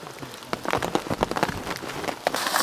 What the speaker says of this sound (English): Well, the rain completely stopped now, and we're heading deep into the woods.